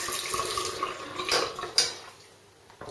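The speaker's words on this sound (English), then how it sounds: "Give that a rinse." A vintage Gillette Tech safety razor is rinsed under a running tap during a wet shave with Tabac soap. The faucet hisses steadily at low volume, with a couple of sharper splashes as the razor passes through the stream.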